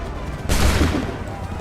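A loud musket volley erupts from a line of soldiers in Assassin's Creed III, a dense crackling burst of many shots at once that decays into a rumbling tail.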